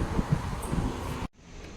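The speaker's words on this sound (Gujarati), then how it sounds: "પવન સરસ આવે છે" Wind blows across a house rooftop, a loud buffeting rush against the microphone that drops off abruptly to a quieter airy hiss.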